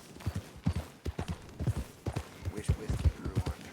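Horse hooves clip-clop in Red Dead Redemption 2, near a group of Morgan horses: a quiet, uneven walking rhythm of soft knocks that continues throughout.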